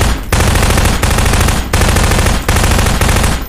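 Sustained bursts of rapid video game gunfire aimed at a T-Rex, loud and continuous with brief pauses between volleys, no talking over it.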